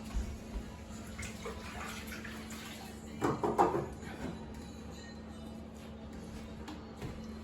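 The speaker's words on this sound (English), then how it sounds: "Let's wash one's hands." Water runs steadily from a kitchen tap as hands are washed, a soft continuous stream with a brief louder splash midway, recorded close in a quiet room.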